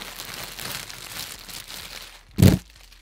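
Plastic packaging around a long wig crinkles and rustles softly and steadily up close, then gives one sharp, louder crackle as it is pulled open.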